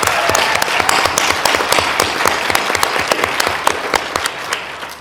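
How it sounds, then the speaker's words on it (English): Sustained round of applause from a conference audience honoring event organizers at a First Nations panel gathering, dense steady clapping with sharp individual claps standing out, loud and continuous throughout. "Please give them a round of applause for all of them."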